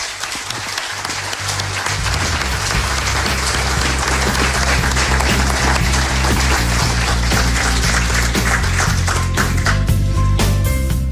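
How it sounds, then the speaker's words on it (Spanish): Sustained audience applause from a studio crowd at the close of a Spanish radio talk programme, dense steady clapping that swells after the first two seconds and continues loudly to the end over a low tonal background. "Os pido un aplauso para él."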